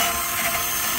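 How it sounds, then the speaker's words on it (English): A wire wheel spun on a drill, scrubbing a blower motor shaft clean, giving a brief, close, steady high whirring grind with no pauses. "Just take your little wire wheel, put it on your drill, run it around, clean it"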